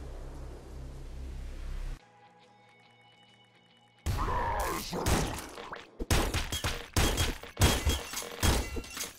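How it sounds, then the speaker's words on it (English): Nuclear Throne's Bouncer gun fires a string of sharp, crackly shots in quick irregular bursts, loud and close, after a stretch of quieter game sound and music; no talking. "so Bouncer shoots bullets."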